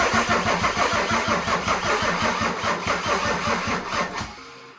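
A diesel 2JZ engine swapped into a Datsun cranking hard on new batteries: loud, close, rhythmic chugging turnover that keeps churning for several seconds before cutting off abruptly, with no voices.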